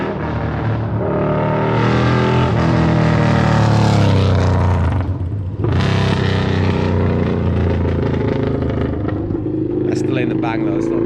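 Harley-Davidson V-Rod motorcycle with a loud, deep exhaust revving hard and steadily, the engine note sweeping up, dipping briefly, then roaring again close by with crackling toward the end; people talk over it.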